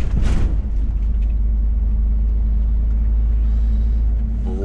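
A car drives along a road at night with a heavy, steady low rumble of engine and tyres, close and continuous, with a brief rustle near the start and no talking.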